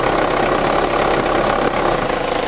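A Ranger's engine labors under acceleration with a fuel supply fault, a loud continuous rough drone with knocking vibration that never rises into clean revs, close and steady throughout with no talk.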